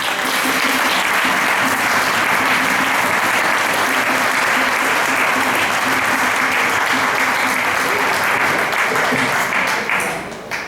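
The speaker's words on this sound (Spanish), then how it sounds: "un fuerte aplauso" Audience applause for a jota singer at an Aragonese cultural event during the Pilares 2024 festivities in Puerto de Sagunto, Valencia; loud, sustained dense clapping for about ten seconds before it tapers off.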